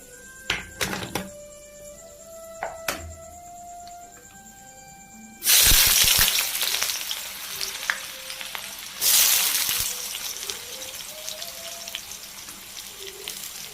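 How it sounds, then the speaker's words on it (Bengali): Onions frying in oil in a pan, sizzling and crackling steadily, with louder bursts of frying hiss as more food hits the hot surface; no talking. "পেঁয়াজগুলো হালকা ভাজা হোক।"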